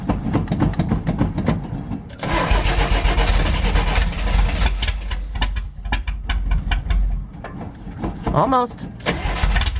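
An old Nash car engine cranking and catching with the choke closed, then sputtering and revving unevenly as it struggles to keep running, loud and close, while a person speaks briefly.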